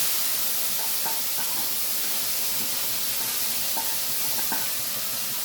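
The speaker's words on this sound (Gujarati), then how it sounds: "અને આપણે તેલ છૂટું પડે બદામી નહીં થાય ત્યાં સુધી આપણે એને સાતવી લઈશું" Onion purée sautés in hot oil in a pan for a Gujarati dish, giving a steady broadband sizzle and hiss with faint stirring clicks, close and continuous, no voices.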